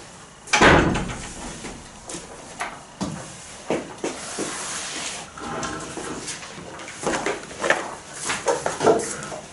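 A door creaks open as someone enters a room: a short creak near the start, then soft scrapes and shuffling over a steady hiss.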